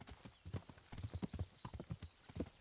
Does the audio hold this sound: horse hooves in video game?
yes